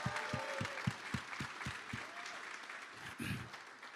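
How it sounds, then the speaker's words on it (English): An audience claps for the morning speakers at a presentation, a burst of sharp, fairly close hand claps that stays steady and dense throughout with faint crowd murmur mixed in. "Let's give a round of applause for all the speakers that spoke this morning."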